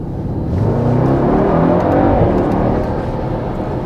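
A 2019 Mercedes-AMG GT63S 4-Door Coupe 4MATIC+ accelerates hard, its engine and exhaust swelling into a loud, steady roar that holds for several seconds before easing slightly, with no talking over it.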